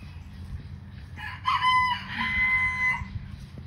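A chicken crows and clucks close by in a chicken run after a flood, a short drawn-out call over low background noise.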